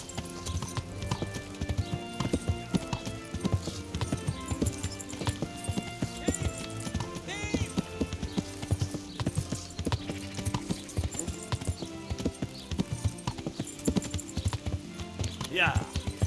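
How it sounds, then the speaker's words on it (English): Horse hooves clip-clop in a steady rhythm throughout in the video game Kingdom Come: Deliverance, with a neigh and a voice talking in the background. "Learn how to ride a horse."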